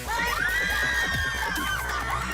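Staged crowd of paid bystanders gasping and screaming, a loud sustained wash of excited voices with high shrieks rising and falling over continuous crowd noise.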